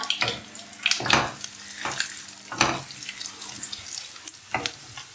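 Cumin, chana dal and urad dal frying in hot oil for rava idli, with intermittent stirring scrapes and sizzling bursts, close and moderately loud, with no talking.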